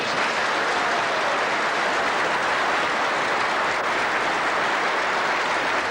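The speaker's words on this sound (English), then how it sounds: "The applause of the crowd will tell the story here" Crowd at the 1980 IBSF Amateur snooker final applauding local champion Ron Atkins taking the frame against Jimmy White; dense, steady clapping fills the whole stretch without letup.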